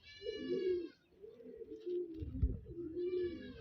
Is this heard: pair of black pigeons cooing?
yes